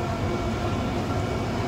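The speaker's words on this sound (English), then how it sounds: "This is a Brisbane City and Ipswich train, running express from Petrie to Bowen Hills, stopping only at Northgate and Eagle Junction." A Brisbane City and Ipswich passenger train running express, heard as a steady, close, loud rumble of wheels and carriage noise with no talk.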